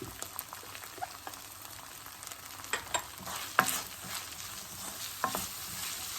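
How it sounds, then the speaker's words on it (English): Onion and turmeric frying in a pan, a steady soft sizzle with scattered crackles and spatula scrapes close by. "fry them till the onion, turmeric and everything is cooked"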